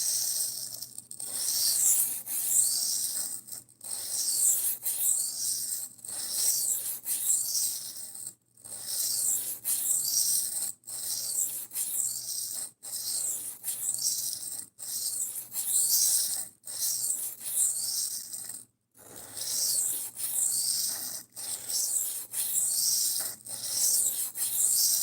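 A knife is sharpened with a long run of steady, rhythmic rasping strokes, close and moderately loud, broken by a few brief pauses.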